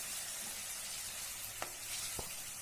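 A water-mixed spice paste poured over vegetables frying in a pan for chili chicken brings a loud, steady broadband sizzle with a couple of brief clicks, no voices.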